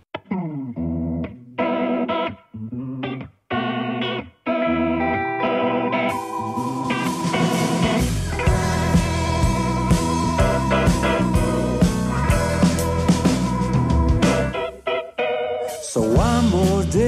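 A song plays on its own at a steady level, starting with choppy, stop-start instrumental phrases and then moving into a full, dense band arrangement with sung vocals.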